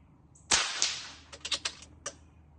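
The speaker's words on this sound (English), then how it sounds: "make note of how crisp and cleanly those paddles snap over" Airgun shots strike the steel paddles of a rimfire airgun target, which snap over with crisp, sharp metallic clacks. A loud first hit is followed by a quick run of smaller snaps, all close by with no talking.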